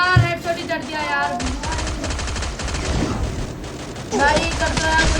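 Rapid bursts of gunfire ring out in a battle royale video game, overlapping volleys and single shots mixed with in-game effects, while a player talks over the action.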